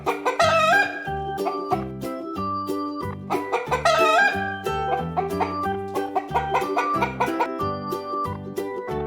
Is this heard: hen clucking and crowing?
yes